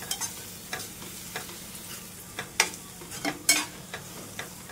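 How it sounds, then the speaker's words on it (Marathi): Coriander-cumin powder masala with turmeric sautéed in oil while making a restaurant-style prawn tawa fry: intermittent scraping stirs over a soft, steady sizzle, the louder strokes clustering in the middle, with no voices. "हे व्यवस्थित परतून घेऊया।"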